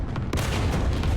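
Artillery fire in the War Thunder tank game, with IS-2 heavy tank gameplay: a sharp blast near the start followed by a dense, continuous roar of booming gunfire that fills the entire short span.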